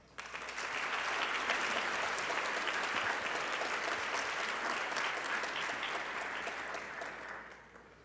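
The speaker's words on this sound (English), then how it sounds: "Please join me in applause for all of the award winners today." Graduation audience at a pharmacy school ceremony applauding award winners: a dense, sustained wash of clapping that swells quickly, holds steady for about seven seconds, then fades near the end.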